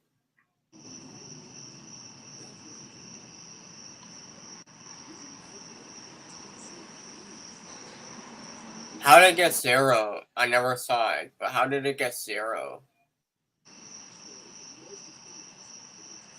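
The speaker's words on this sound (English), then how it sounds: "I can hear the cricket noises in the background." Steady cricket chirping from a livestream setting, a continuous high trill that runs faintly in the background, drops out while people talk loudly for a few seconds, then resumes on its own.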